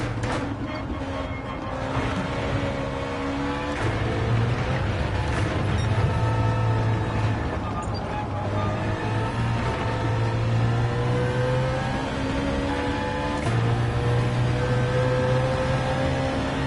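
A car engine in Gran Turismo 7 hums and revs steadily, its pitch rising and falling with gear changes under continuous driving noise.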